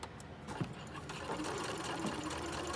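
A sewing machine bastes a lapped zipper, running continuously at close range with a steady, fast mechanical whir and rattle.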